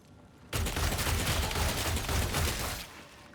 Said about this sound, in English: I should probably be burst firing like this.